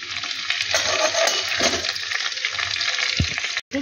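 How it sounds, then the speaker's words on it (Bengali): Dried red chillies hit hot oil in a wok and crackle into a loud, steady sizzle up close, with a brief clink near the end. "একটু শুকনো লঙ্কা ফোড়ন দিলাম"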